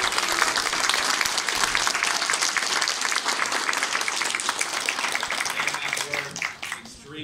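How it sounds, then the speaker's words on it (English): Audience applauds a preschool children's musical performance, a dense, steady wash of clapping that stays loud throughout before tapering slightly at the end. "One more round of applause for the children."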